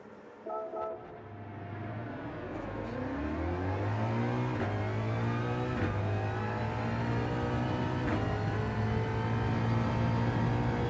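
A Ford GT engine in the racing game Gran Turismo 7 revs steadily higher through the gears, its rising whine loud and continuous with no talking over it.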